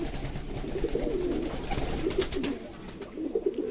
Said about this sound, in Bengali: সবাই কি সুন্দর স্নান করছে দেখো।